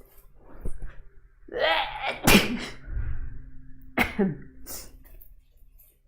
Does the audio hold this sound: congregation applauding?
no